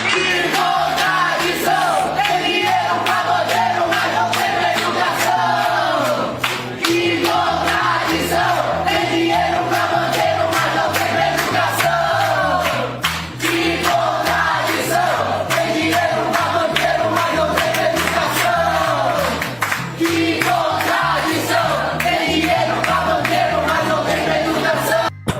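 Crowd of university students in Brazil chanting a rhythmic protest war cry in unison, loud and sustained with a repeating cadence and shouted voices throughout.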